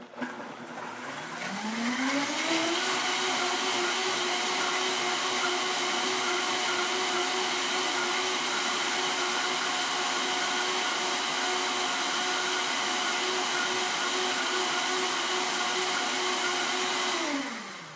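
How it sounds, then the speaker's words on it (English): A blender runs continuously on hot water for a superfood elixir, its motor rising in pitch as it spins up, then holding a steady loud whir for about fifteen seconds before winding down. "So I'm going to blend that."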